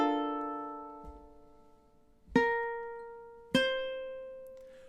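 Ukulele plucking a short phrase from a song, three separate notes or chords spaced about a second apart, each ringing and slowly decaying, played alone and close.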